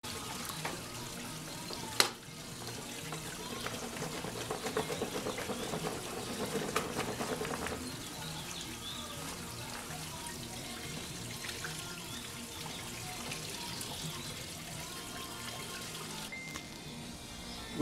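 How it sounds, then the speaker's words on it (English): Chilled running water splashes steadily into a filter bag close by, a continuous gushing stream with a brief clunk near the start. "So we're just going to use some chilled water to do that."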